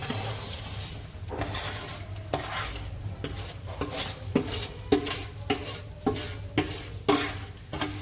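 Edible gum (gond) stirred in ghee in a pan: repeated scraping and stirring strokes over a soft, steady sizzle, close and fairly loud, with no talking.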